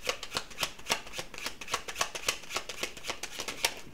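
A tarot deck is shuffled by hand, rapid rhythmic riffling and flicking of cards close up, a steady run of quick papery snaps.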